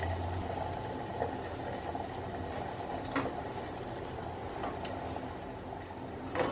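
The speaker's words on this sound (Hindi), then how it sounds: "तेल गर्म हो जाने के बाद फ्लेम लो करके बैटर अंदर डालना है" Ghevar batter bubbles in hot oil over a low-to-medium flame, a steady close frothing churn with occasional faint clicks and no talking.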